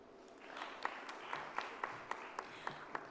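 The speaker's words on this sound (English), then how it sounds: "Ladies and gentlemen, clap for him." Light clapping from a conference audience at a sustainable energy event, a faint scattered patter with a few sharper individual claps spaced through a few seconds.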